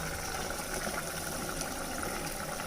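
A thick idli kurma bubbling and simmering steadily in a pot, close up, with soft irregular pops and no talking.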